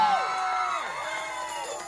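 A concert audience at a show in Phoenix roars with cheers and whoops, a steady, loud crowd wash that fades slightly over two seconds.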